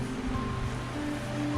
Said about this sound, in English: The waves are coming in a little bit further there.